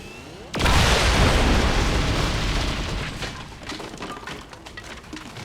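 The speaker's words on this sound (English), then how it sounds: "that's the Purifier going up in a fiery explosion" A Purifier blows up in a fiery explosion in XCOM 2: War of the Chosen, a sudden loud boom that swells, then rumbles and crackles as it slowly fades over several seconds.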